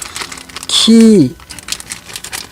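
A plastic bag holding Lexus car keys crinkles briefly and close by, a short rustle heard under a voice speaking Korean.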